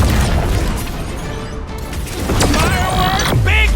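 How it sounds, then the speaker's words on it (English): A loud, booming firework blast in the Guardians of the Galaxy video game on Xbox Series X, a dense rumbling burst mixed with other game effects and voices near the end. "Firework! Big boom!"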